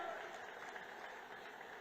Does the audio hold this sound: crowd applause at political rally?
yes